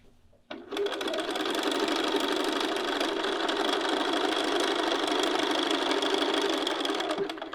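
A sewing machine stitching a garment neckline near a keyhole opening starts up after a brief pause and then runs in a continuous, steady, close whir until it stops near the end.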